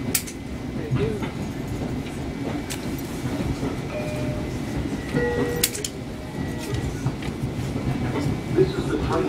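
LIRR M7 commuter train rolling along, captured from on board: a steady low rumble of wheels and car body with faint rail clicks and brief tonal squeals, continuous and moderately loud throughout.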